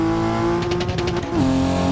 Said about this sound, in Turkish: Bak abi araba 5000 devirde ya Emre abi.